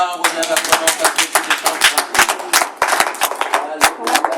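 A congregation claps in rhythm during a church worship service, a fast, steady run of sharp claps with voices and singing mixed in beneath.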